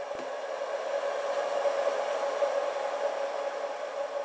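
Hair dryer running on high at 1600 watts, powered from a battery inverter, switching on with a click and then blowing as a steady, even whoosh with a constant motor whine, close and uninterrupted.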